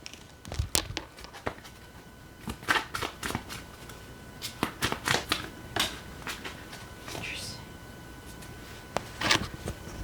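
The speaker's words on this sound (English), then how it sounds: "when I shuffled that card, it literally flew into the reverse position" Tarot cards are shuffled and riffled in quick, irregular bursts of crisp flicking and slapping, close by, with brief pauses in between.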